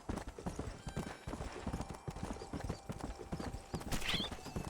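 Horse hooves clip-clop in a steady, quick rhythm while riding in the video game Red Dead Redemption, fairly quiet, with a brief whinny-like sound near the end.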